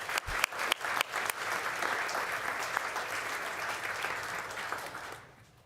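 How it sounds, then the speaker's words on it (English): An audience at a school board meeting applauds a retiring staff member, a burst of clapping with a few sharp near claps at the start, then dense steady applause that fades out at the end. "we'll give him a round of applause and wish him well"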